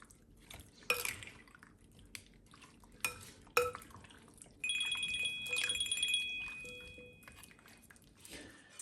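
Chicken wings being tossed and stirred in sauce, giving soft wet squelches and sticky clicks with a few utensil knocks against a bowl, fairly quiet, alongside a faint electronic beeping tone midway.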